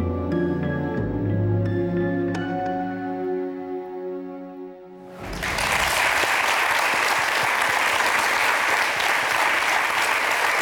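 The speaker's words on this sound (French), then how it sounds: "C'est lui qu'on applaudit." A television studio audience bursts into loud, sustained applause after a sustained musical chord fades out midway. The dense clapping continues steadily to the end without voices.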